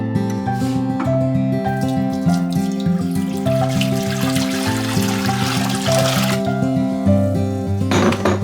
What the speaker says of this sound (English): I'm going to put my water in, 8 cups of hot water